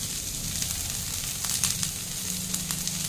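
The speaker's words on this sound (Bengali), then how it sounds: "এবার এটা ভালো মতো ফ্রাই হতে দেবো" Onion, green chilli, beans, cauliflower and carrot sizzle in a pan with a steady frying hiss and scattered small crackles that pick up briefly in the middle.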